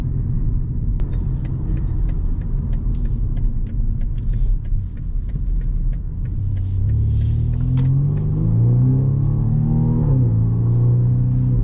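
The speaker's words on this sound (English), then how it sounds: "You can see, yeah, the exhaust noise is really sporty." A BMW M235i xDrive Gran Coupe with a turbocharged four-cylinder and sport exhaust, heard from inside while driving: a deep steady engine drone and rumble that rises in pitch as it accelerates through the gears, with no talking.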